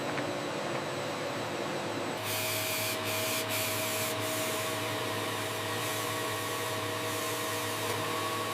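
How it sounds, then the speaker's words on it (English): A steady, loud whirring and grinding hum of automated sanding on a JBL 4349 studio monitor speaker cabinet's veneer runs throughout, shifting to a harsher, brighter tone partway through. "Automated sanding halted."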